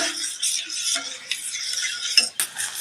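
A spoon stirs a pot of hot, starting-to-boil urad dal porridge (ulundu kanji), giving light scraping and clinking strokes at an uneven rhythm, close and fairly soft, with no talk.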